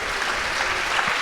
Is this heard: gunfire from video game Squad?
no